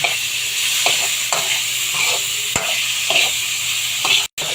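Tilapia and tomatoes stirred in a pan for sweet and sour fish, a spoon scraping in repeated strokes over a steady close sizzle of frying, with one sharp clack near the end.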